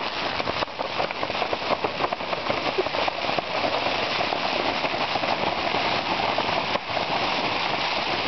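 Heavy rainstorm pounding on a tent, dense loud crackling patter that barely lets up, with gusts shaking the fabric.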